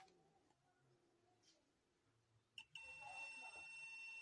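Quiet soft clicks and rustles, then a sudden steady electronic beep from a continuity tester as a wire touches a pin, holding continuously until the end.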